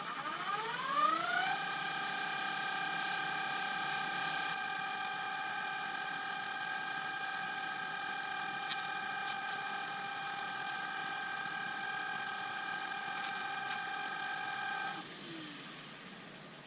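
A wood lathe spins a small turned wooden lighthouse coated with a fine finish, its motor whine rising as it starts, holding a steady hum, then winding down at the end.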